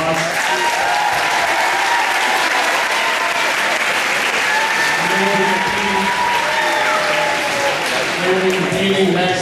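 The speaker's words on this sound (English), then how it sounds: "So if you could give them another round of applause." Gym crowd at a state quarterfinal event gives a cross country team sustained, loud applause, a thick continuous roar of clapping with voices and cheers mixed in.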